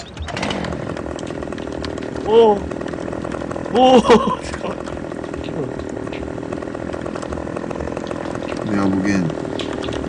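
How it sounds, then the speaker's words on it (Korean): A chainsaw cuts through a tree in the Farming Simulator video game with a steady, loud, buzzing engine drone that runs throughout while voices talk and exclaim over it. "나 전기톱으로 자를게"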